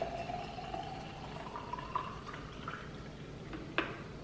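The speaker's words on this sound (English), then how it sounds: "I'm gonna go ahead and pour it into my mason jar." Celery, cucumber and ginger juice is poured into a mason jar as a faint, steady trickle whose pitch climbs while the jar fills, ending in a few soft drips.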